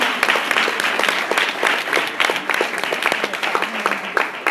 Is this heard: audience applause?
yes